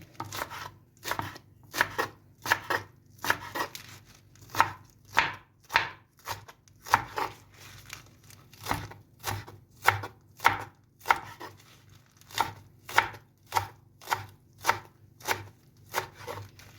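Knife chopping vegetables for a Turkish shepherd's salad on a cutting board, steady evenly spaced chops about one per second, close and clear with a low hum underneath.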